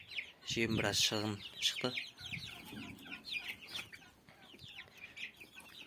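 Newly hatched turkey chicks in a farm shed chirp in a flurry of high, quick peeps, loud bursts near the start then lighter scattered cheeping while someone talks over them.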